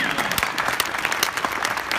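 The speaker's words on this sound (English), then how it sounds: "Give her a huge round of applause." Dense, energetic audience applause at a Coldwell Banker real estate conference in Las Vegas, a loud continuous wash of many hands with a few sharper claps popping out.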